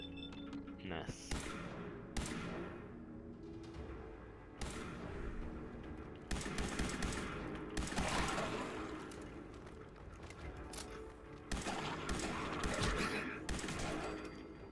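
Gunfire in Fallout 4, with repeated loud shot bursts and thumps spread across the clip, some close together and others separated by short quieter gaps, while a voice talks in between.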